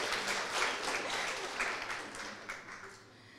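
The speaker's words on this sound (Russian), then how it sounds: "они даже тебе все аплодируют." Applause from an audience gathered at a panel talk on art prizes, a steady wash of many hands clapping at moderate distance, with a faint voice or two underneath.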